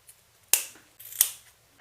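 Scissors snip twice through the top corners of a sewn fabric seam on lined cigarette pants, two crisp close cuts about a second apart with no talk.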